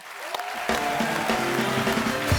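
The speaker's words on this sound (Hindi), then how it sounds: "जोरदार तालियां" Studio audience applause on a comedy talk show, starting after a brief pause and continuing steadily, with musical tones and cheering mixed in.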